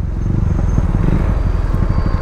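A Yamaha MT-15 motorcycle runs hard in a drag race, a loud, steady, throbbing engine roar with rapid low pulses and wind rush throughout, no speech.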